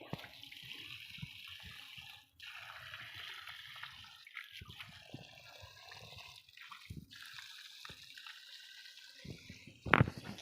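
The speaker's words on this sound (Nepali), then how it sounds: "यहाँ यस्तो पानी खेर गइरहेको छ" Water runs to waste from a village tap or pipe in a steady, fairly faint splashing flow, briefly cutting off once and ending in a louder gush, with no voices.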